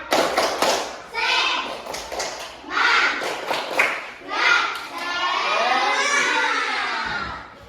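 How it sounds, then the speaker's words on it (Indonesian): Schoolchildren in an Indonesian classroom stand and perform the tepuk semangat clap chant: sharp rhythmic claps in patterned groups alternate with shouted chanting voices, ending in a long, loud, rising group cheer. "Yuk, 1, 2, 3 tepuk semangat."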